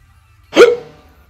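A single sharp hiccup from a person, one brief voiced gulp that rises suddenly out of near silence and fades within a fraction of a second, close and distinct.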